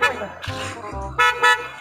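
A car horn honks in short bursts, a few toots including two sharp blasts near the end, mixed with speech at an outdoor picnic.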